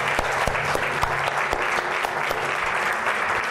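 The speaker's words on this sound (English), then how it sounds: "So I'd love to have a round of applause for the readers and the writers." Audience applause for the readers and writers at a community narrative evening, a dense steady patter of many hands clapping close by for the full length, with no talk over it.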